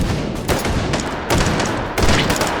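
Gunfire in the VR shooter H3VR, several loud close shots in quick succession with echoing tails over a dense background of battle noise, no speech.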